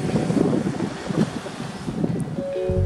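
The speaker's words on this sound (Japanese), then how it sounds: "オフショアが背後から吹いていますね。" A light but steady offshore wind blows at a near-flat beach surf point on a cold day, buffeting the microphone with a continuous rumbling rush over faint waves.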